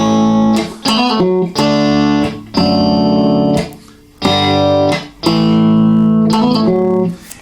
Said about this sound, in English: It's kind of a hammer on, pull off, and then a hammer on that D.